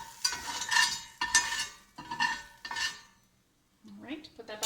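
Two beaten eggs pushed around a hot omelet pan with a utensil, four scraping, clinking strokes against the metal pan in a loose rhythm, followed by a pause and then brief speech.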